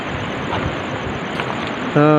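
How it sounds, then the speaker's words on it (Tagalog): Steady wind rushes outdoors among large rocks in Tagoloan, Misamis Oriental, Philippines, a broad hiss with gusty texture, ending with a sudden tonal buzz. "Kakaiba talaga yung hangin dito mga idol."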